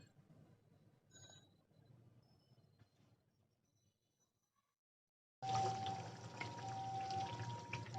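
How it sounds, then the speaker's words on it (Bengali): Potato slices for crispy homemade chips go into hot mustard oil: after a few faint, quiet seconds, a loud, close sizzle bursts out suddenly and keeps crackling steadily to the end. "তো আমি আমার গরম তেলটার মধ্যে সব আলুর স্লাইসগুলো দিয়ে দিলাম"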